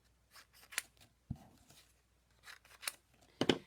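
Scissors cut up small punched paper pieces in a papercraft session, giving several quiet, separate snips spaced irregularly, with no other sound around them.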